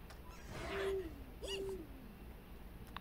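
A cartoon owl from The Owl House gives two short hooting calls in a row, each a brief tonal note over a faint background, with no speech.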